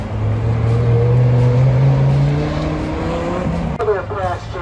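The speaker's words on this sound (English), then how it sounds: "We've got a Viper here doing its best." Dodge Viper on an autocross course at a Chrysler car show, its engine droning loud and rising in pitch as it accelerates, then dropping sharply as it shifts, with the revs climbing again.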